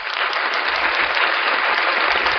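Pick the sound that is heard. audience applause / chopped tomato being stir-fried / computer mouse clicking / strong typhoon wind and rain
audience applause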